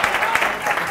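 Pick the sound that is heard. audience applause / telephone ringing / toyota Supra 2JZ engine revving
audience applause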